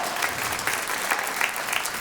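Audience applause from a seated crowd, a steady dense patter of many hands clapping at moderate loudness for two seconds, with no talk over it.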